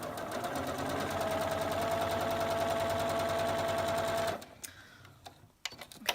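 Sewing machine chain piecing quilt half-square triangles, stitching in a fast, even mechanical patter for about four seconds before stopping, followed by a few soft handling clicks and rustles at close range.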